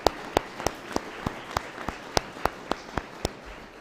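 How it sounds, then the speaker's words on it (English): An audience at a junior police academy graduation claps in a sparse, slow round: about a dozen distinct hand claps spaced evenly over a few seconds, fairly quiet and somewhat distant. "Can we please give Sergeant Lennox a big round of applause?"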